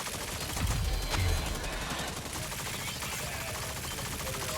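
Gunfire in the MultiVersus video game comes as dense, rapid bursts of shots in a busy, noisy mix. The firing is loudest near the start and then continues as a constant barrage.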